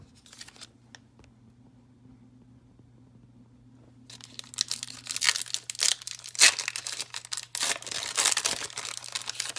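Crinkly foil wrapper of a 1987 Sportflics baseball card pack being torn and crumpled open, close and fairly loud, starting after a few seconds of near silence and continuing as a dense, uneven rustle.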